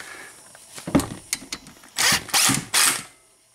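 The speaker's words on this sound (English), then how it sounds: "That should screw right in. Take your driver." Screw being driven into a Toyota clutchless A/C compressor with a driver, heard as a few ratcheting clicks followed by three loud, close bursts of mechanical whirring, with no talking.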